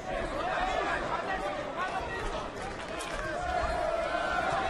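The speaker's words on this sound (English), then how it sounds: "Chanting, let's go, Mikey, under a minute left." A boxing crowd in San Antonio roars and chants during the tenth round of Mikey Garcia versus Sergey Lipinets, a dense, steady wash of many voices filling the arena with no single voice standing out.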